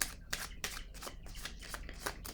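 Tarot cards are shuffled in a quick series of crisp riffling bursts, close and fairly quiet, with short pauses between them.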